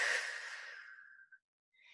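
A single deep breath taken during a back and abs flex fitness class: a long, close, breathy exhale fading over about a second, followed by a faint short inhale.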